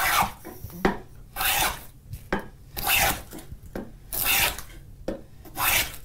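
A hand plane takes heavy cuts along a board of lumber, producing six or so loud, rhythmic rasping strokes, each a rushing scrape separated by short pauses, with no voices.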